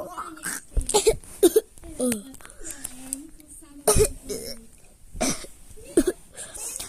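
A voice with several short coughs and throat-clearing sounds scattered through, close to the mic, mixed with other vocal noises.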